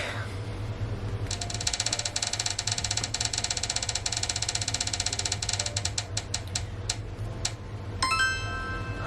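A prize wheel spun by hand makes a rapid, steady stream of close ticks that stays fast, then slows and thins toward the end before a final jangle.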